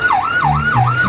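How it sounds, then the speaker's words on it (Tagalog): An ambulance siren wails close and loud, a smooth rising and falling tone repeating about three times in quick succession, with a low engine rumble underneath. "may dumadating na ambulansya"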